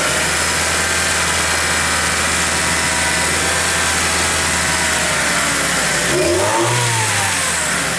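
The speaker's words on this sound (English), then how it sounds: "This actually sounds like a pretty good running Civic engine right now." A Honda Civic engine, treated with oil stabilizer for mild rod knock, runs loud and close, holding a steady roar before it revs up and drops back, with no clatter or knock.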